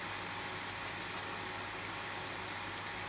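A pool filtration pump motor running with a steady, faint, constant hum and hiss, no talk.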